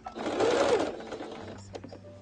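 A sewing machine stitches a zipper pouch in a short, loud burst of fast motor-driven stitching, then the needle slows and halts into a lower hum with light mechanical clicks.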